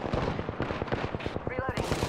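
Rapid automatic gunfire in the Apex Legends video game rattles out as a quick, loud burst of closely spaced shots, close up and continuous across the whole stretch.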